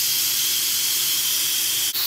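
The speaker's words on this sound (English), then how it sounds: "I don't know if you can see the steam coming up." Steam hisses steadily out of a crockpot cooking turkey wings, a loud, even rush that holds for the whole stretch, with a brief dip near the end.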